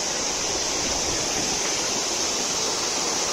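Water rushes steadily at a village stone water mill (gharat), a dense, even broadband roar close by with no voices.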